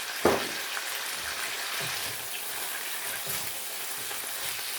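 Vegetables sauté in a pan seasoned with liquid aminos and a pinch of salt, keeping up a soft, even sizzle with a brief clack near the start and no voices.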